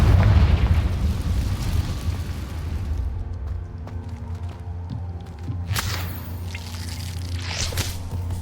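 A Confringo fire spell blasts in the video game Hogwarts Legacy: a sharp, loud burst erupts late in the clip over a steady low rumbling game ambience, with smaller crackles scattered around it.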